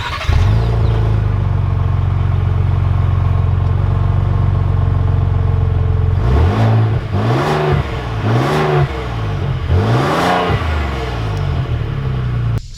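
A 2020 Lincoln Navigator idles with a deep steady engine hum, then pulls away in a series of rising revs through several gear changes, loud and close, with no talk.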